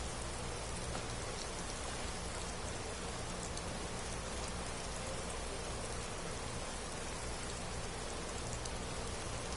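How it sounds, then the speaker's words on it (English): Steady rain falls in Skyrim, a continuous even hiss of drops on surfaces that stays at a soft, constant level with no voices. "I could just sit and listen to the rain just for hours."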